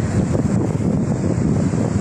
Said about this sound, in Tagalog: galit na galit yung alon dito sa Siquijor Beach